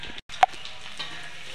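Onion frying in a pan, an Indian home-style potato dish in progress, produces a steady, close sizzling hiss with a brief dropout and a single soft knock partway through.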